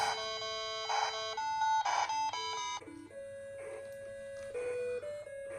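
Bleeping electronic game tones from an Amstrad CPC464 computer in short stepped melodic phrases, chiptune-like and steady, with faint background hum.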